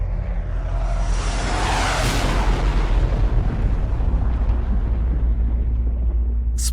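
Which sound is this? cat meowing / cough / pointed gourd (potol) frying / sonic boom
sonic boom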